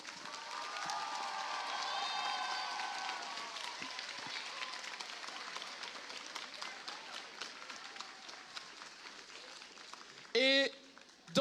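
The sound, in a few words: audience applauding for referees and judges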